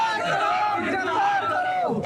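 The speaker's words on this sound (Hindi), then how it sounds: "लगातार नारेबाजी यहाँ पर वो की जा रही है आम आदमी पार्टी के द्वारा।" Aam Aadmi Party protesters chant slogans together in a loud, close crowd, their voices rising and falling in a brief burst of rhythmic shouting.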